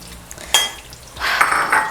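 Onions browning in plenty of cooking oil in a pot for beef pilau, with a soft sizzle under a sharp clink of a utensil, then a louder, steady frying hiss with stirring scrapes.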